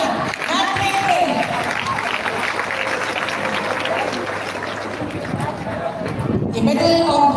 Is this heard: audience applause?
yes